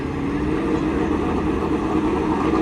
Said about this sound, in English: You can hear that my two-step activated.